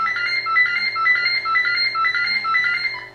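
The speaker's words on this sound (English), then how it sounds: "it's testing the alarms at that point, making sure the lights work." A Crowcon Tetra gas detector sounds its alarm test, a loud, close electronic warble of repeating rising and falling beeps in a steady rhythm, with no other sound around it.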